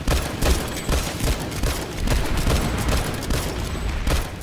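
Sustained heavy gunfire in a shooter video game, a dense, continuous volley of overlapping shots and booms that stays loud throughout.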